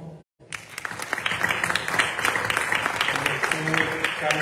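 An audience at a philosophy book presentation applauds a guest, steady dense clapping starting after a brief silent gap and continuing evenly at moderate loudness to the end.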